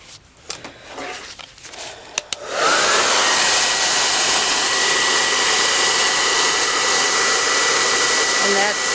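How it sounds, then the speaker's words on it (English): A Conair 1875 watt hairdryer switches on after some faint handling clicks, then blows with a loud, steady whooshing roar and a high whine that holds constant until the end. "It's an 1875 watt hairdryer made by Conair"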